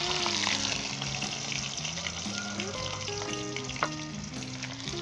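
Ginger and garlic fry in 4 to 5 tablespoons of vegetable oil in a karahi with a steady, loud, close sizzle. Stirring clatters briefly over it, with a faint trickle of water in the background.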